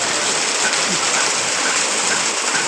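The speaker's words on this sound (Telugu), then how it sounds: "నల్గొండలో ఈరోజు అతి భారీ వరద." Heavy floodwater in the old town of Nalgonda, a loud, steady broadband rush and roar of water that continues without a break for nearly three seconds.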